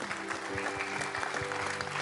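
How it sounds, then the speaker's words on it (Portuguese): Sustained applause from a church congregation, dense and steady, with voices faintly underneath. "Você pode aplaudir bem forte o Senhor."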